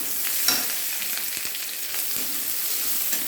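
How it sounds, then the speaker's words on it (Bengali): Chopped onion and nigella seeds fry in a little oil, giving a continuous close sizzle with soft stirring scrapes and small crackles throughout, with no voices. "এই যে দিয়ে দিলাম কালো জিরে, দিয়ে কুচি পেঁয়াজ"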